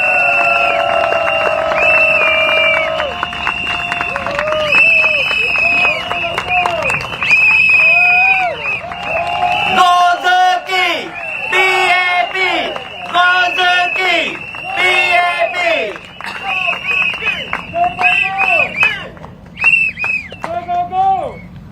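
A large crowd at an outdoor political rally for the PAP in Mountbatten, Singapore cheers and shouts loudly and continuously, with a voice speaking over the roaring crowd throughout.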